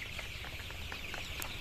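A crowded coop of about 2000 two-week-old Indonesian native ayam kampung chicks, a dense chorus of high peeping chirps over a low hum of background noise.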